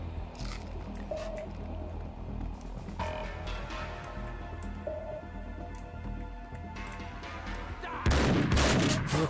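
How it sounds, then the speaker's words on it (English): Gunfire aimed at the player in Max Payne 2: scattered sharp gunshots and clicks over a busy game soundscape, ending in a loud, dense burst of shooting close by. "Who the fuck's shooting me?"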